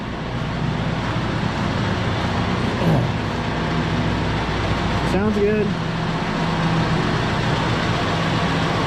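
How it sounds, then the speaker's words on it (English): A John Deere 6115D tractor engine idles in a steady low rumble throughout, close and constant, while someone speaks briefly over it. "So I have it in here just idling."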